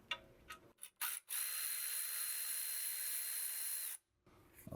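A power tool whirs for about three seconds to remove a 10mm bolt from the transmission heat shield of a BMW M4 DCT, between short clicks and handling noises.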